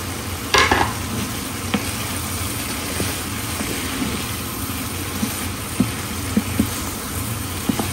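Green and red peppers fry with cauliflower in a pan, giving a steady, fairly loud sizzle marked by occasional sharp clicks from stirring utensils, with no voices.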